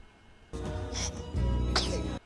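Two sharp, forceful sneezes close by, the second louder and more explosive, bursting out of a quiet background.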